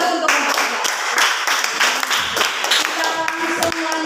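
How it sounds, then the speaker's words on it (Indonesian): Classroom applause for a student presentation group in a teacher-training session: a steady burst of many hands clapping at close range, dense and continuous for about four seconds with no voices on top. "Tepuk tangan dulu untuk kelompok 3."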